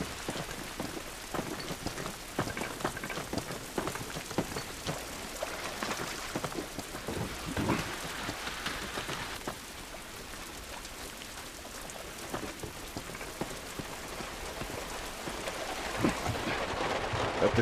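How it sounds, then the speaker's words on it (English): Rain falls in The Last of Us video game as a steady, dense patter of drops on surfaces, with scattered louder splashes and a faint low rumble, continuous and without speech. "This rain ain't gonna do us any good."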